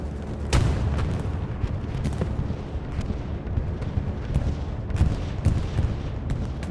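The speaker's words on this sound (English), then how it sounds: "Bombing run coming in." Bombing-run explosions in the video game Hell Let Loose on the Omaha Beach map, a string of heavy booming blasts, some sharp and near, others rumbling, over continuous battlefield noise with no talk.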